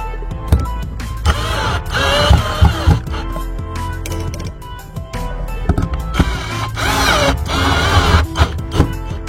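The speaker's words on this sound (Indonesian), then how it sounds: "di sini bisa kita lubangi terlebih dahulu supaya lebih mudah untuk memasukkan skrup atau baut" A handheld drill bores screw holes into a plastic fan cover, its motor whirring in repeated short bursts with grinding and rattling contact noises, close and fairly loud with no talk.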